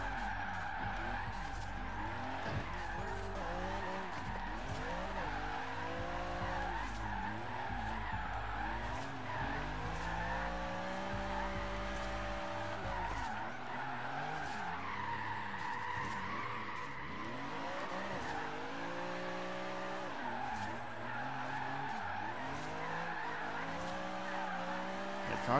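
Tires of a Lexus SC300 skid and squeal continuously while drifting in the Forza Horizon 3 racing game, the engine note rising and falling beneath loud, sustained screeching that varies in pitch throughout.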